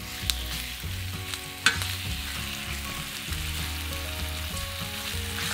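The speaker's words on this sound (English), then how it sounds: "Place the beef in the hot oil and cook for 5 to 6 minutes, turning a couple of times until it's browned." Beef browning in hot oil in a pan for Indonesian beef rendang, with a continuous crackling sizzle, occasional utensil knocks and stirring scrapes, close and fairly loud, with no voices.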